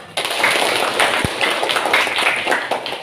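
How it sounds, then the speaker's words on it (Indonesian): A classroom of students gives a short burst of clapping after a lesson answer, moderately loud and close with one sharp thump partway through, no talking over it. "Bagus. Tepuk tangan."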